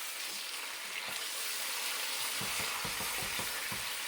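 Chicken pieces fry in a pan for a desi chicken curry, giving a constant loud sizzle up close, joined in the latter half by a quick series of stirring scrapes and taps against the pan.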